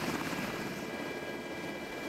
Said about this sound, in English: After a few minutes of flying, the helicopters reach their destination.